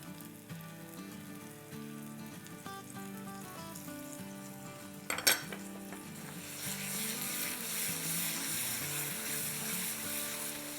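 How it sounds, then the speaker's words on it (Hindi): Spiced masala fried with yogurt in a pan for a cauliflower mutton curry, giving a steady close sizzle with a brief clatter midway, after which the frying grows louder and more hissing. "साइड में अगर आप देखेंगे तो सिजल सिजल सिजल हो रहा है।"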